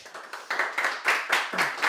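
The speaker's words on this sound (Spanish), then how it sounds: "recibimos a Catalina con un aplauso" A modest audience at a talk on the family as a public good claps in welcome, a small group's uneven, fairly close claps that build slightly over a couple of seconds.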